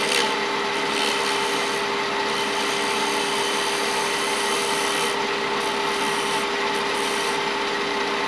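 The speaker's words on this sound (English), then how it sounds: "And with shear scraping, you can go either direction." Shear scraping on wood spinning on a lathe while a pocket mirror is turned, a steady continuous rasping scrape that holds at an even level throughout, close and alone with no voices.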